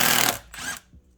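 Wrench or impact gun working on a motor mount bolt of a 2013 Dodge Grand Caravan 3.6L, passenger side: a loud, harsh mechanical burst that cuts off, followed by a shorter rattling burst and a faint knock.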